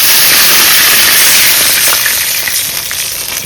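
Water poured into a curry in hot oil sets off a loud, dense sizzle and spitting hiss that stays strong, then eases slightly toward the end, with no talking.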